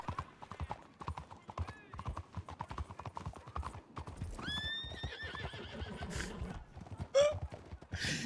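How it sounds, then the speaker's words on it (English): Horse hooves clip-clop in a steady rhythm, followed by a loud neigh and whinny partway through, with people talking over much of it. "That horse of yours is so slow."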